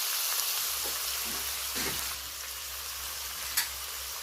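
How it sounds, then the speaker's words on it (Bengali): Onion and tomato frying with Japanese puti fish, stirred gently in a pan; a steady close sizzle with occasional scraping strokes of the spoon and a sharp clink near the end. "হালকাভাবে নাড়তে থাকবে"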